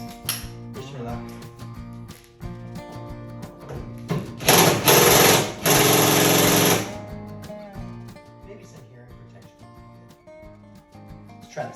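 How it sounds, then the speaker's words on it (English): A pneumatic impact gun hammers at a heated bolt during a teardown down to the frame, letting out two loud, rattling bursts of a second or two each. A steady mechanical hum runs underneath. "let's see if the impact gun works"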